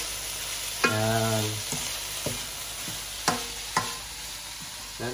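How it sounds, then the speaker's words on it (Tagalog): Mung beans being sautéed in a pan with meat and bitter gourd, a steady sizzle with stirring scrapes and clacks of a utensil against the pan; a voice says one brief word. "Tapos ginigisa ko yung munggo"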